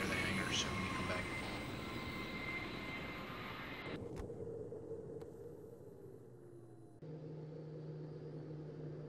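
A video-game Comanche helicopter moves toward a hangar in a military unit training session, its faint, steady engine drone shifting in pitch and dropping abruptly in level partway through, with no voices.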